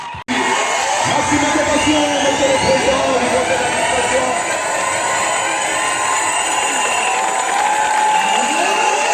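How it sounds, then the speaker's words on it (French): A large crowd of civil-service trainees at a Gabonese graduation event claps and cheers loudly and continuously, with whoops and shrill cries riding over a thick, sustained roar of applause. "Maximum d'acclamation. Maximum d'applaudissements."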